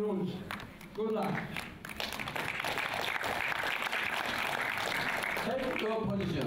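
An arena audience at the women's 25 m pistol final of the 2013 ISSF World Cup in Changwon, Korea, breaks into sustained, dense clapping for several seconds, with an announcer's amplified voice just before and just after.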